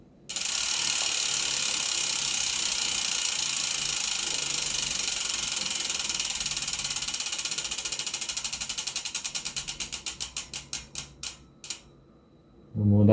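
A gravel bicycle's rear wheel spins with its hub ratchet buzzing as a fast, dense clicking, close and loud, that gradually slows into distinct spaced clicks over the last few seconds before stopping.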